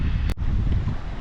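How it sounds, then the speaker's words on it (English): Wind blowing across an open pond during spring bass fishing in Texas, a steady rough rush buffeting the microphone, broken by one brief sharp bump, with no voices. "the wind is definitely starting to pick up over here"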